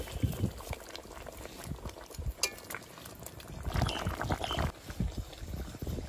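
Rupchanda fish curry with tomato bubbling in a pan, a steady near simmering crackle and gurgle with occasional clinks and stirring, no voices.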